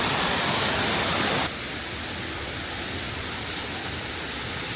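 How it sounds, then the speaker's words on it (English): Water rushes at the top of Na Muang waterfall, a loud steady broadband roar, louder and brighter for the first second and a half, then a slightly softer constant rush with no voices. "I think this is the top of the waterfall"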